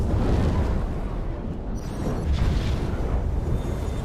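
A bomb explosion in the World of Warcraft Aberrus raid, a loud, sustained roaring blast that rumbles on for several seconds.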